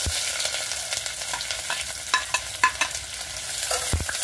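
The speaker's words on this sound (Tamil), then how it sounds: "பொன்னிறமாக வதக்கிக்கலாம்." Sliced onions with bay leaf, cinnamon, cardamom and cloves sizzle steadily in a hot pan for mushroom pulav, with a few sharp clicks of a spoon stirring and scraping near the middle.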